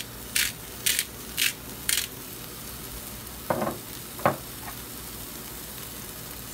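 Four quick bursts of pink Himalayan salt hitting a frying egg in a pan, evenly spaced bright crackles, followed by a few louder clunks and scrapes, all over a soft steady sizzle with no talk.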